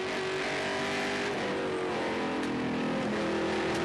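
Onboard roar of a NZV8 race car engine at Taupo Motorsport Park, a loud, steady V8 drone with shifting pitch as the car is driven hard, continuous and close throughout with no talk.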